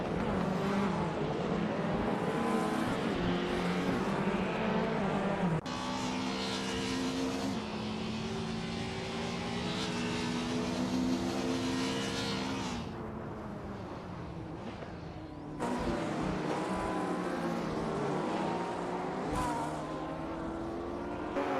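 Racing cars in a nonstop racing video game roar around a track, with steady loud engine drone and shifting pitch as cars pass, unbroken throughout with abrupt cuts between segments.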